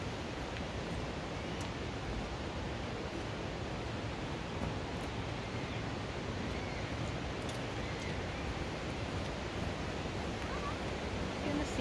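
Water rushes steadily through an Australian rainforest, a dense, loud, unbroken wash of flowing water that holds constant from start to finish.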